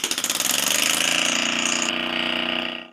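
Homemade compressed-air piston engine running fast, a loud, rapid mechanical chatter with rhythmic pulsing puffs, close and continuous before winding down at the end.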